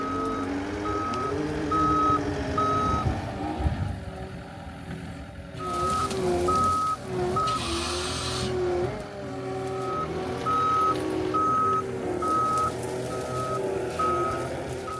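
A rented skid loader reverses in a wild orchard. Its loud, steady beeps repeat evenly over a rumbling engine throughout.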